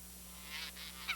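A tame pair of Canada geese honk in a few short calls, with a sharper, louder honk near the end over a steady low hum.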